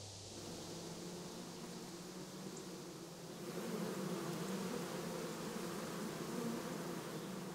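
Bees buzz around wicker hives in Kingdom Come: Deliverance, a soft, continuous droning hum that grows slightly fuller midway and stays at a low, even level throughout.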